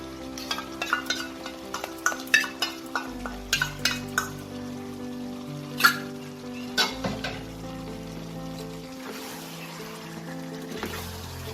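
A spatula stirs chicken with a yogurt mixture in a sizzling pan for Chicken Dak Bungalow, with a run of close scraping knocks and clinks over continuous frying hiss and soft background music.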